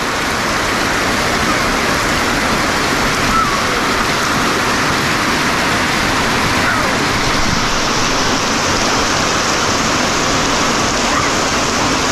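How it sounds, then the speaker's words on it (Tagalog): Heavy rain pours down steadily outdoors, a loud, dense hiss of water with a rushing, waterfall-like roar that stays constant throughout, with no talking. "Grabe, lakas ng ulan dito ay."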